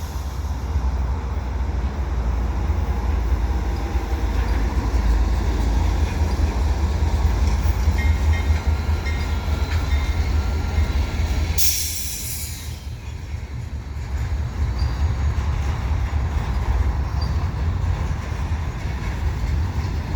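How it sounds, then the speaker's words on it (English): A CSX freight train rumbles steadily past under the Dorval ramps with a continuous low roar and faint rail clatter, with a brief bright squeal or hiss partway through. "it looks like the CSX train coming here underneath the Dorval ramps"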